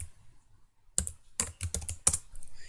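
Keys on a computer keyboard are pressed in a short burst after a quiet pause, a few crisp, close clicks and clacks in an uneven rhythm with no voices.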